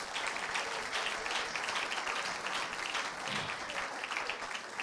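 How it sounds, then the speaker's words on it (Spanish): Church congregation applauding during a Spanish-language sermon, a steady wash of many hands clapping that fills the whole stretch at moderate, even loudness. "Dele fuerte aplauso al Señor"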